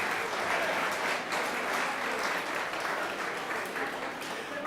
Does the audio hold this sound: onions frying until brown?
no